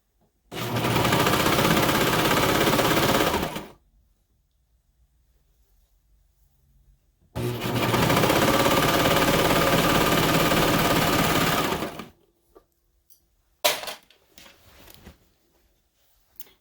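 A sewing machine stitches a skort waistband through skirt and shorts layers. It runs in two long, loud, steady bursts with a quiet pause between them, followed by a few brief clicks and handling sounds.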